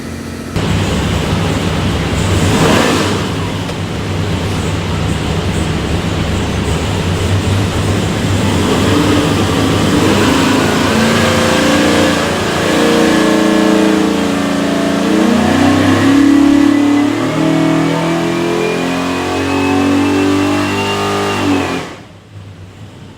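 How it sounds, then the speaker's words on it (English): A 582ci big block Chevy V8 with a custom-grind hydraulic roller cam, rated around 700 horsepower, revs loudly on an engine dyno, climbing steadily in pitch through a sustained full-throttle pull before cutting off abruptly near the end. "Go in there and make a run, show you what she does."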